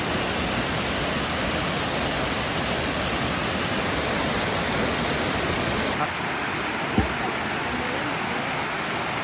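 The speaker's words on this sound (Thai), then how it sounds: "น้ำตกงานเสด็จ" Ngan Sadet waterfall in Doi Inthanon National Park, Chiang Mai, gives a steady, loud broadband roar of falling water that fills the whole stretch, shifting slightly in tone partway through, with a brief thump near the end.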